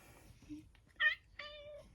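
A cat meows twice close up, a short call followed by a longer drawn-out one, in an otherwise quiet room.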